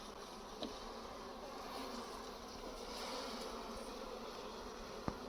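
Honey bees buzz steadily in a continuous dense drone around an open hive during a honey harvest, close and even throughout with no voices.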